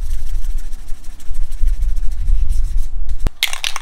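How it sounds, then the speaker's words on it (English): Steady rough rubbing of sanding a 1967 Ben Pearson Sovereign Mace recurve bow, close and continuous in repeated strokes, with a sharp click and a brief hiss near the end. "Gonna do a little bit more sanding"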